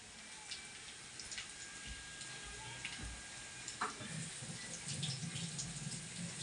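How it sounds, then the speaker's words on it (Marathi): Fresh coriander being washed under a running kitchen tap, a faint continuous stream of water with soft splashes and handling noises nearby, no voices. "कोथंबीर जरा वॉश करून घेते मस्तपैकी धुवून घेतले"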